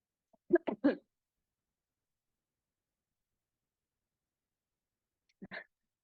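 A few quick, sharp bursts close together near the start, a sneeze-like outburst, then near silence before one short burst at the end.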